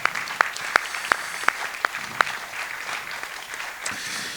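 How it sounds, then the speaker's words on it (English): Scattered audience clapping after a talk by Dead Prez at the Black Archives, a handful of distinct sharp claps in an irregular rhythm, then a softer background murmur. "Yeah, you can clap."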